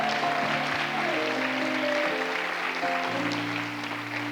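Church congregation applauding during a conference service, a dense, steady wash of clapping that holds at an even level over sustained musical tones throughout.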